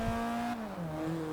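A Mazda MX-5 engine in the racing game Forza Horizon 2 revs steadily, a loud buzzing tone that drops in pitch with gear changes, heard alone.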